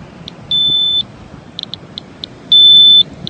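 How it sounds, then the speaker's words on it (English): A radiation detector alarm sounds on a beach, giving two long steady beeps about half a second each, separated by short chirps, over a low wind-like background with no talk. "I'm over background. The alarm's going off."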